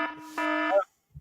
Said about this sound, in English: Eric, sound the alarm